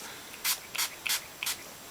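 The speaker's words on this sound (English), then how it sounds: "I'm just going to use this hairspray" Four short, quick hisses of hairspray from a can, evenly spaced and close, over a faint steady background hiss.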